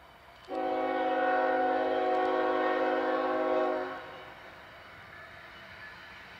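A CPKC freight train, Train 318, passing through Fort Macleod in southern Alberta sounds its horn in one long, steady, loud chord lasting about three seconds, then leaves a low rumble of the passing train behind.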